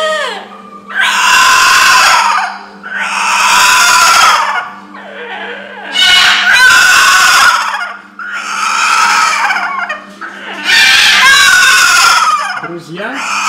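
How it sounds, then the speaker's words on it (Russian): Parrots call loudly in the morning, a series of harsh, raucous screeching bursts repeating every couple of seconds, close and dominant over a steady low hum. "Утреннее пение попугаев – это нечто."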